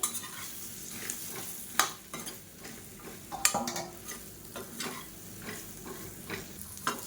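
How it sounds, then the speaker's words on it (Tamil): Okra (ladies finger) sautéing in hot oil in a pan, a steady frying sizzle broken by repeated scraping stirs of a spoon against the pan, close and alone without talk. "சேர்த்துட்டு எண்ணெயில் நல்லா வதக்கி விடணும் வெண்டைக்காயை."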